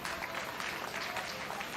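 Crowd applause and cheering for the final senior class at the Cache County Fair junior livestock show, a steady dense wash of clapping filling the whole moment with some voices mixed in.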